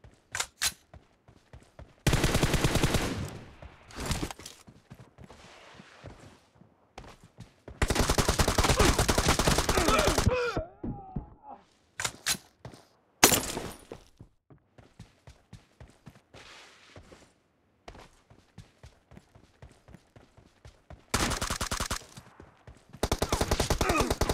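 Bursts of M416 assault rifle fire in an online shooter game ring out loud and close, with rapid automatic strings separated by short single shots, quiet gaps and scattered footstep-like clicks.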